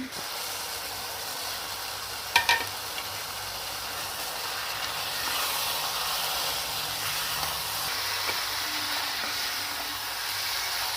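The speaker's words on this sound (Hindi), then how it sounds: "अब मसाले को अच्छी तरह से हम भून लेंगे" Green chilies and masala fry in a pan for chicken capsicum curry, giving a steady hissing sizzle with a couple of sharp clatters near the start.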